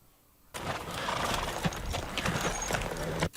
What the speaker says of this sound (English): They're out of breath like they just ran a distance. The horses did.